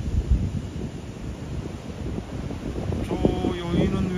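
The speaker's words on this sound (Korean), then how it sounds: "파도가 많이 치네요." Wind-blown ocean waves surge onto the beach at Jeongdongjin, a rough rumbling wash mixed with heavy wind buffeting on the microphone, with brief faint tonal sounds near the end.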